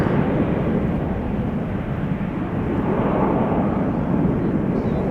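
A jet airliner takes off from the Polderbaan runway at Schiphol, a loud, continuous broadband roar of engine thrust that holds steady and close throughout, with no voices.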